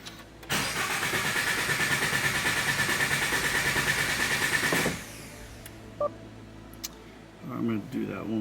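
A Toyota GR86 engine cranking without starting, cycling oil after a Tomei baffle plate install: a steady, loud, rhythmic starter whir for about four seconds that stops abruptly, followed by a few faint clicks and brief speech.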